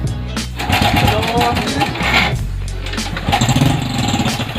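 A small SYM Bonus X110 scooter engine cranks and catches, puttering unevenly at close range with a rough, rattling idle and an odd noise.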